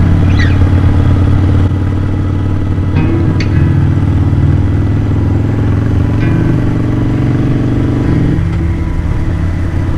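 A Harley-Davidson Super Glide rides along paved roads outside Charleston on James Island, South Carolina, with a loud, steady engine drone, a faint shift in pitch near the end and a constant rush of wind; no talking.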